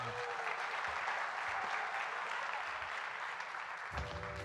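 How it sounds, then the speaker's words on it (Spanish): A conference audience claps steadily and warmly, a dense continuous patter of applause throughout. "Un aplauso para ella."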